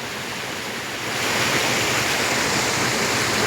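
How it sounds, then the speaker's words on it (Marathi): Steady, loud rushing of a waterfall in Konkan, India, a dense broadband roar that swells slightly after the first second and then holds constant, with no voices. "हे बघा कोकणातले सुंदर असा निसर्गरम्य धबधबा"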